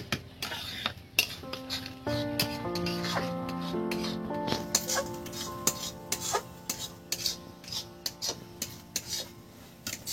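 A spatula stirs and scrapes mashed pointed gourd (potol) in a pan, making rhythmic rasping strokes and light taps that become regular after a few seconds, over soft background music.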